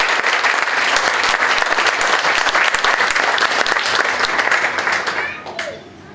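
Sustained applause from a wedding reception audience fills the room for a friend named Adam, dense and loud throughout before fading out at the end.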